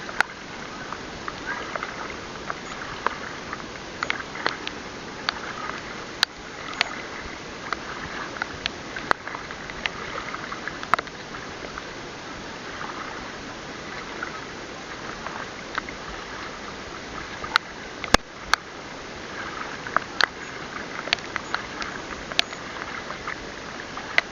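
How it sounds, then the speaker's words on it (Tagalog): Large waves churn and crash during stormy weather, with logs washed along by the rough water. A continuous rushing roar with rain-like patter and scattered sharp cracks carries steadily through the whole stretch. "Nagngingit-ngit yung mga alon, nagngingit-ngit. Nag-uumpugan."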